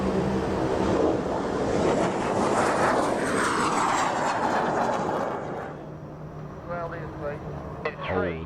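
An airplane takes off with a broad, loud engine roar that sweeps and gradually fades into the distance, while faint voices come through near the end.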